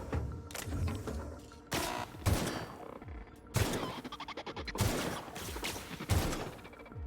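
Gunfire in The Outer Worlds, a sci-fi shooter game: a series of loud, sharp bursts and shots spaced irregularly across several seconds, with no talk over them.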